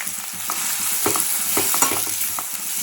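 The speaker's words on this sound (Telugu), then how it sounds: "ఇవి ఉల్లిపాయలు వేసుకొని బ్రౌన్ కలర్ వచ్చేంత వరకు వేయించుకోవాలి" Onions frying in hot oil for a tomato and dried prawn curry, a steady close sizzle with intermittent stirring scrapes and clinks throughout.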